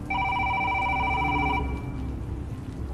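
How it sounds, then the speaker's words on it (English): A telephone rings with a steady trilling electronic tone for about a second and a half, then stops and leaves a low background hum. "the phone rang again."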